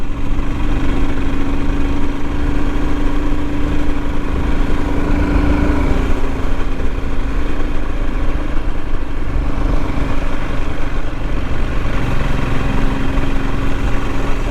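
Royal Enfield Himalayan motorcycle running along narrow country byways, a steady close-up engine drone mixed with wind rush, constant and loud with no voices.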